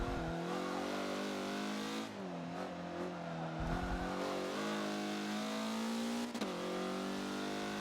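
Race car at Suzuka in Forza, engine droning steadily then dropping as the throttle lifts, with a gear-like pitch shift and a brief rise near the end, close and continuous without talk.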